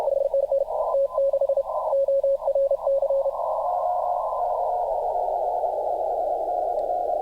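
CW sidetone from a Xiegu G90 radio receiver beeps in clipped Morse dots and dashes for a few seconds, then settles into a steady tone over soft hiss, clear and alone.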